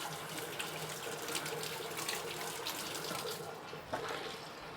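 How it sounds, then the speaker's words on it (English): Tap water runs steadily into a kitchen sink as sticky maltose sugar is washed off fingers, a close, continuous splashing hiss with small shifts in flow and no talking. "we can to wash away my maltose sugar on my fingers"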